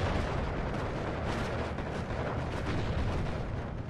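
Fighter planes strafing in the World War II strategy game Steel Division 2 create a dense, continuous roar of rapid gunfire and rumbling explosions with no pauses.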